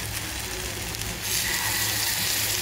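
Batter sizzles in a hot appe pan over a medium gas flame, a steady broad hiss that grows louder partway through as more batter hits the oil, close and continuous.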